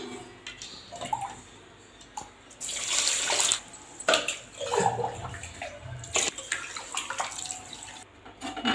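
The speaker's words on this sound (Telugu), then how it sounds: "ఇట్లా వాటర్ కూడా పట్టి పెట్టుకుంటా బిందెలో చూడండి" Tap water runs into a metal pot at home, a steady splashing gush that rises and falls in level with brief clinks and drips, close by and without talk.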